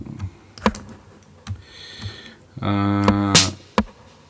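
Several separate clacks of a computer keyboard as shortcut keys are pressed, spaced irregularly, close and fairly crisp, with a brief synth tone sounding between them and no talk.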